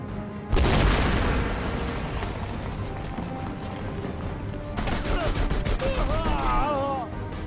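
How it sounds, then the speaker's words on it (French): A grenade blast in the Conflict: Denied Ops shooter during a raid on an abandoned Russian base: a sudden loud boom followed by a long, rumbling, crackling tail, with voices joining near the end. "Une grenade."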